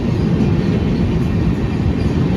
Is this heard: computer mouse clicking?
no